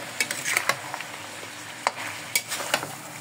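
Onions and chili stirred in a frying pan with garlic, a steady sizzle broken by several sharp scraping clacks of a utensil against the pan, close and fairly quiet with no talking.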